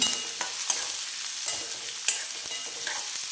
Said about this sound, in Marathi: आता त्यामध्ये कांदा टाकून घ्या. कांदा व मिरची छान परतून घेऊया.